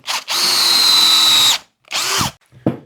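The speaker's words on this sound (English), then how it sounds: "We're just going to drill that out." A power drill bores a hole into a guitar body for a homemade Telecaster build: a loud sustained whine of about a second, then a shorter second burst and a brief final blip, close up with no talk.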